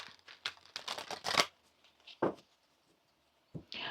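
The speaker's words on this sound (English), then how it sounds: "I'm going to shuffle that one more time for you." Tarot cards are shuffled by hand in quick bursts of riffling and flicking, close and crisp, followed by a pause and then a few more short shuffles.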